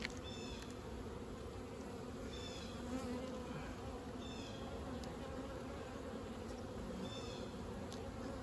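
Honey bees hum in a continuous dense drone around an opened overwintered hive, steady and close throughout, with individual bees whining past now and then; no talking.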